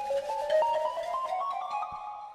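A mobile phone ringtone plays a bright, stepped electronic melody with clear repeating tones, fairly loud and steady for a couple of seconds with no talking over it.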